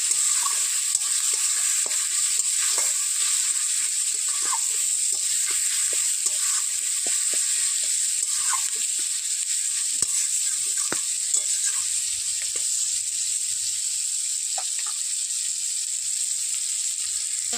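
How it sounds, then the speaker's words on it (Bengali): Spice paste of ground mustard, amchur, turmeric and chilli powder sizzles in hot oil, a steady close hiss throughout with faint scraping stirs now and then. "আমচুর সরষে বাটা দিয়ে ভালো করে আমচুরটাকে কষিয়ে নিয়েছি"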